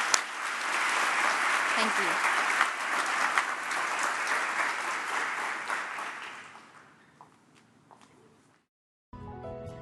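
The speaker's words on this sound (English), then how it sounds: "Please give yourselves a huge round of applause." Medical and health science students at a university faculty welcoming event applaud themselves, a loud sustained round of clapping that gradually fades out, followed by a brief spoken thanks and a short silence.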